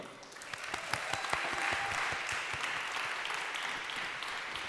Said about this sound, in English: So please help me with a really nice applause and welcome